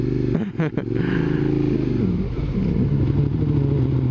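A Suzuki SV650 motorcycle fitted with an SP Tadao muffler pulls away under a deep, loud exhaust note that climbs and shifts in pitch as it accelerates, with a brief clatter near the start.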